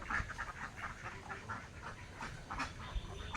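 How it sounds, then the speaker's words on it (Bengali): Ducks gather at a flooded village pond, a flock quacking in repeated short bursts at low volume, somewhat distant against a quiet outdoor background. "কত হাঁস দেখুন।"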